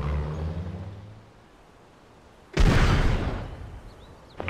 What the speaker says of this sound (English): Launching bombardment now.